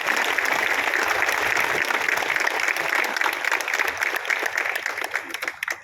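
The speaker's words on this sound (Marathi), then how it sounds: "त्यामध्ये आपण जोरात टाळ्या वाजवायला पाहिजे" A crowd at a village political office inauguration with religious leaders present bursts into loud, dense clapping, sustained for several seconds before thinning toward the end.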